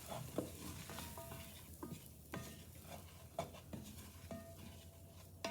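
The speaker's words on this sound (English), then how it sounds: "We're going to put in 1/4 of a cup of all-purpose flour. I'm going to stir it around." Flour stirred into sausage drippings in a pan for gravy, a steady soft sizzle under repeated scraping strokes of a utensil against the pan, close and moderately loud with no talking.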